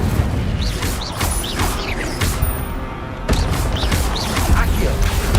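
In the video game Hogwarts Legacy, the Incendio fire spell is cast amid loud layered combat effects: whooshing bursts, crashes and mechanical clatter, dense and near, with a voice briefly present.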